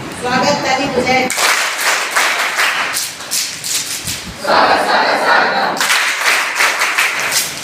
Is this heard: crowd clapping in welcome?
yes